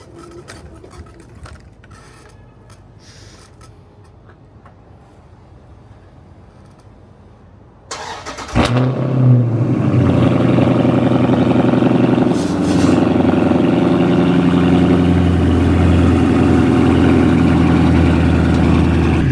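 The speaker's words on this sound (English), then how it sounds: "Let me give you guys a little cold start real quick before I get in." Cold start of a Scat Pack car with a fully straight-piped exhaust from the cat back: quiet at first, then a sudden loud crank and bark that settles into a steady, loud, close-up idle.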